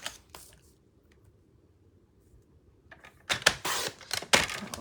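A blade slicing through paper at a craft table, heard as a few crisp, close scraping strokes, one near the start and a dense cluster after a long quiet stretch.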